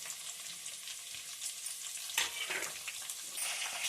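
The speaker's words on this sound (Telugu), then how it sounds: "పచ్చిమిర్చి ఇలా ఫ్రై అయిన తర్వాత" Slit green chillies fry in hot oil for Andhra-style mango rice, giving a continuous crackling sizzle with a brief louder burst of spatter and stirring midway.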